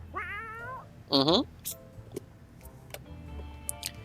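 A cat meows in the video game 60 Seconds! Reatomized, two short distinct meows, the second louder, over a quiet ticking clock and faint clicks.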